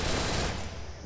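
Rapid automatic gunfire from the Free Fire video game rattles on continuously in a dense, loud burst, tapering slightly toward the end.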